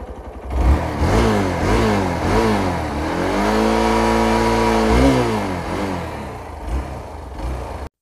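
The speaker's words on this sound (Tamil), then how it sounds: "எக்ஸாஸ்ட் சவுண்டை பார்க்கலாம் இப்போ." Hero Xpulse 200 BS6 motorcycle exhaust revved repeatedly while stationary, engine note rising and falling in several blips and then holding a longer sustained high rev before dropping back to idle, loud and close with no talk.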